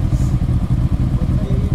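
A Royal Enfield Interceptor 650 with an EFI fault and a draining battery runs close and loud, its engine stumbling in an uneven, pulsing chug as it falls toward stalling.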